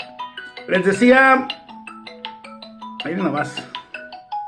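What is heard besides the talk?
telephone ringtone ringing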